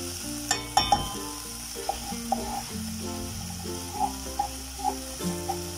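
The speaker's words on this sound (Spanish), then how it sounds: "Vamos a agregarla para freírla un poquito." Onion frying in oil in a pan for Coca-Cola chicken, a soft steady sizzle near the mic with several sharp utensil clinks and taps against the pan, no voices.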